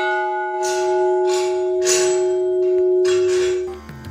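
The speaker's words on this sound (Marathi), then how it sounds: "एकदा काही घंटा वाजवली की त्याचा निनाद आजूबाजूच्या 6 किलोमीटर" A large 410 kg bronze bell at a Shiv temple in Dhamtari rings with a loud, steady sustained hum, while several fresh strikes add bright bursts over the continuous tone.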